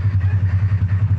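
A Polaris ATV engine runs steadily on a trail at normal riding speed, a close, loud, low pulsing drone with a regular throb and no talk.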